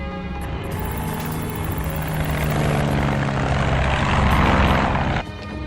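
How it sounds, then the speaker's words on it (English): A propeller cargo plane in flight makes a loud, continuous droning roar that swells slightly and then eases near the end, with no talk over it. "This plane will get you to where you need to go."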